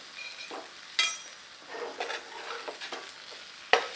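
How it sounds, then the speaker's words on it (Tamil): Masala-coated food roasts in a pan over a low flame, with a soft, steady sizzle under a few sharp clinks and scrapes of a spoon stirring and turning it. The sound is close and fairly quiet. "நல்லா லோ ஃப்ளேமில் ஒரு ரெண்டு மூணு நிமிஷம் ரோஸ்ட் ஆகிற வரைக்கும் விட்டுணுங்க"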